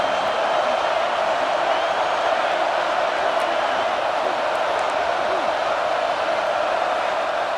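A stadium crowd in the College Football 26 video game roars continuously during a third-down red-zone play, a dense, even wall of cheering that holds at the same loudness throughout.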